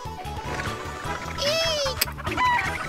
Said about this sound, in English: The chickens, they're escaping!